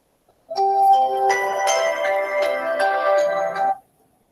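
A mobile phone plays a melodic ringtone during a sociology lecture, ringing clearly and steadily for about three seconds before cutting off into silence.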